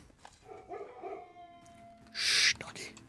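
A dog whines and howls faintly in the background of a home livestream while a video game is played, a drawn-out, wavering cry followed by a brief louder noise.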